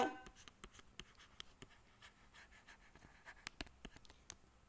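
Writing on a board in a physics classroom, with faint, close taps and scratches of marker or chalk strokes coming in an uneven rhythm, quiet and without talk.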